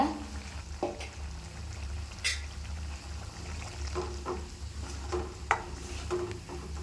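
Dried fish curry with garlic and onion simmers quietly in a pan with soft bubbling, occasional small pops and faint sizzling, no voices.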